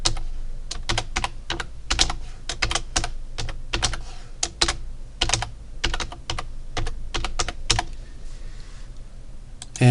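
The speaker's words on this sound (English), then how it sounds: "Hopefully I'm typing this correctly." Keys clatter on a computer keyboard as a password is typed, a close, steady run of quick uneven keystrokes lasting about ten seconds with no talking.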